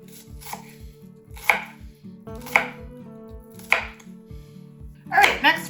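Knife chopping carrots into small pieces on a cutting board, a series of sharp close thuds in an uneven rhythm, with a quick burst of rapid chops at the end, no talk.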